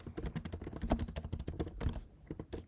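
Quick, busy clatter of keys on a computer keyboard as a comment is typed, close and fairly loud, with a short pause before a few final taps.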